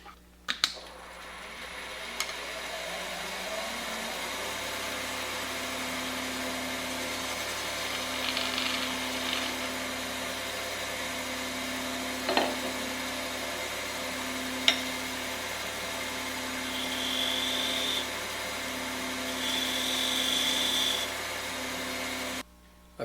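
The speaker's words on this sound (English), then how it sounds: "I use my spindle gouge to put a small dimple in the very center, and then I'll use the point tool to add a couple of rings" A wood lathe spins steadily while a spindle gouge and point tool cut into a turned piece, a continuous hum with a faint pulsing tone and a few sharp ticks from tool contact.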